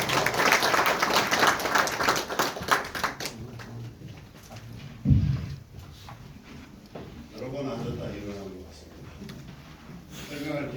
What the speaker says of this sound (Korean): 가볍게 박수 한 번 좀 꼭 좀 부탁드리겠습니다